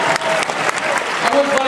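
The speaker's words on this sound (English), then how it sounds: "I can tell by the great round of applause for everyone that loved your question." Audience applause at a live Q&A with actor Karl Urban, a dense, steady round of clapping filling the short stretch without a break.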